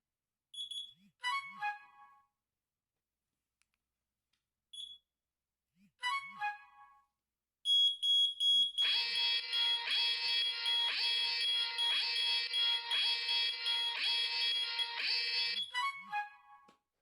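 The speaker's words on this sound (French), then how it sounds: "l'alerte est extrêmement rapide lorsque l'on enclenche le bouton d'urgence" An Ajax wireless alarm siren set off by the panic button on a badge: a few short beeps first, then a loud continuous high-pitched electronic wail that holds steady for about eight seconds before cutting off.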